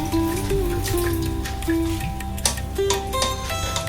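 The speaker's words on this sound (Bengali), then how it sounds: "আধা ঘন্টার জন্য জলটা ঝরতে রেখে দেব" Water drips and trickles from freshly made rasmalai chhena as it drains in a kitchen, a close patter of drops with light ticking over a faint background tone.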